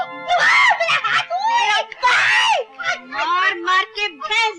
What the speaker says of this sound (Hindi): क्या चिल्ला रही हो?